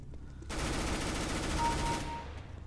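Sustained automatic gunfire in Counter-Strike: Global Offensive, a loud continuous burst of rapid shots lasting about a second and a half before cutting off.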